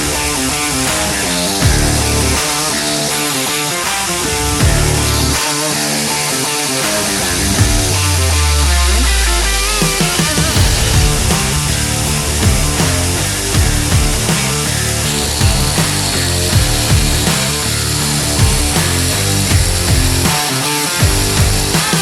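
A belt grinder running a coarse 36-grit belt against a steel knife blade during knife making, giving a loud, continuous abrasive roar with shifting pitch as the blade is pressed and moved, briefly dipping around the middle.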